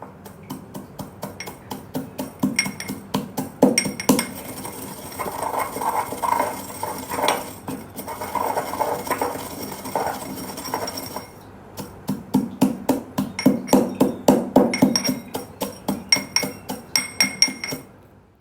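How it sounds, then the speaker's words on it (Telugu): Repeated pounding of ingredients into powder in a mortar with a pestle for tamarind rice, steady rhythmic knocks and clinks that come in bursts, growing faster and louder toward the end. "దీన్నైతే దీంట్లో పెట్టి ఇలా బాగా దంచుకొని పౌడర్ లాగా చేసుకుంటాను"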